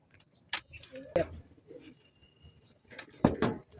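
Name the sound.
racing pigeons cooing at release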